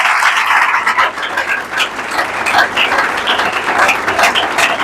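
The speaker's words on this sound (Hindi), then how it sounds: "यीशु के लिए भरपूर तालियां बजाएं।" Church congregation at a Hindi-language worship service clapping loudly and continuously, a close, energetic wall of many hands applauding throughout.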